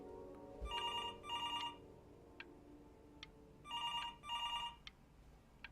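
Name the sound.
telephone ringing in the video game Before Your Eyes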